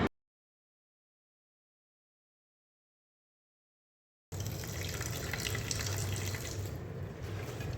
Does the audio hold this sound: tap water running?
yes